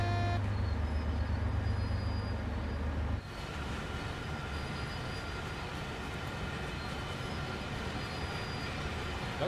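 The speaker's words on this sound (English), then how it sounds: "Sounds like we've got brakes on somewhere, doesn't it?" Train brakes drag on a Maintalbahn simulator train, giving a steady, loud rolling rumble with a grinding hiss. It shifts to a rougher, noisier rumble a few seconds in and continues without a break.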